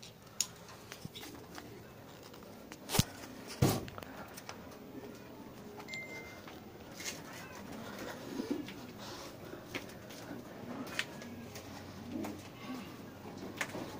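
Pigeons coo softly near a nest made of newspaper, low repeated calls in a quiet space with a few light clicks and rustles around them.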